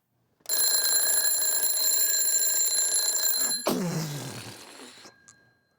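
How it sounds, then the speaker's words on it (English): An alarm clock rings in a loud, continuous electronic tone for about three seconds, then breaks into a lower rattling buzz that fades away. "he's gonna use an alarm clock"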